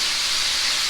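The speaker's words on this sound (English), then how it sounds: "So we're browning the meat." Pork meat browns in a pan for chili colorado, giving a loud, continuous, close-up sizzle that holds steady throughout.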